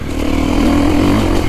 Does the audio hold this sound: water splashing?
no